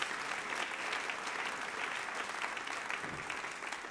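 A church congregation claps together in steady, dense applause, moderately distant and even, continuing for several seconds before easing off slightly.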